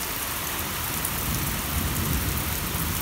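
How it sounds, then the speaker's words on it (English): An evening thunderstorm outdoors: steady, loud rainfall pours on surfaces while low rumbles of thunder roll underneath, swelling slightly toward the end. "And thunder."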